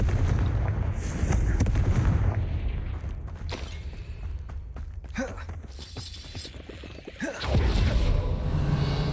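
Confringo fire spells explode in Hogwarts Legacy combat, a string of heavy booming blasts with crackling, creaking debris, loud and continuous with a fresh burst near the end.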